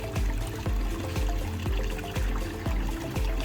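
Hydrozan probiotic water treatment being poured into a fish tank, a steady close splashing pour with a rhythmic pulsing, loud and continuous throughout.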